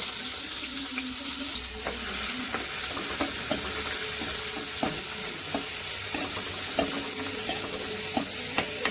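Tomatoes and chilies frying in a pan, a steady close sizzle with intermittent stirring scrapes and clinks throughout, no voices.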